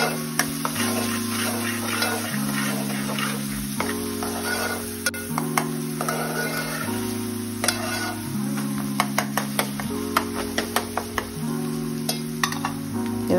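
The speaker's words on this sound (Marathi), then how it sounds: "अद्रक लसूणची पेस्ट टाकल्यानंतर फोडणी करपायची भीती असते, त्यामुळे सारखं मग चमच्याने हलवावं लागतं" Ginger-garlic paste and onion sizzle in a hot tempering for pav bhaji while a spoon stirs continuously, giving steady frying hiss with repeated clinks and scrapes against the pan, under background music.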